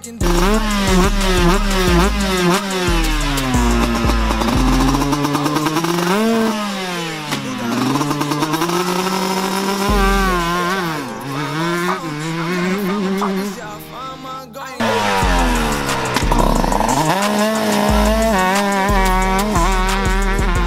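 A motorcycle engine revs hard and repeatedly, pitch sweeping up and down through gear changes, loud and close throughout.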